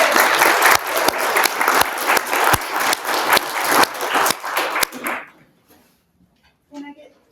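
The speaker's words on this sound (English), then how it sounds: "If you would like to give a round of applause to our CDP." Loud, sustained clapping from a candidate forum audience fills the first five seconds, then fades quickly into near silence with a faint murmur at the end.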